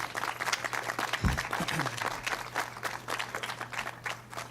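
Audience applause at a library mural dedication, a steady dense wash of clapping lasting several seconds with a low hum underneath and a brief thump partway through.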